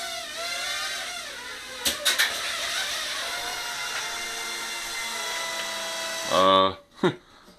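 Small Eachine E20 3D model aircraft's electric motor whines steadily at full speed with rising and falling harmonic pitch, a few sharp bursts near the start and a brief surge before it cuts out near the end.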